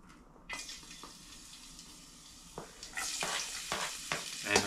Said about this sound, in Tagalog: Yung bawang, sibuyas. Lahat na. Gisa po natin lahat.